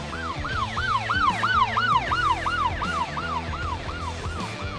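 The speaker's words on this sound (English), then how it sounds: "he heard sirens and noticed flashing lights approaching from behind" Wailing police siren sweeping up and down in rapid repeated cycles, loud and close behind on a Nevada road during a pursuit, over low traffic rumble.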